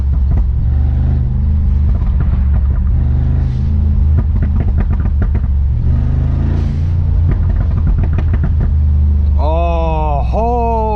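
Brabus G900 engine idling and cruising at low RPM, a deep steady rumble throughout with rhythmic pulses, loud and close, with a brief rising whine near the end.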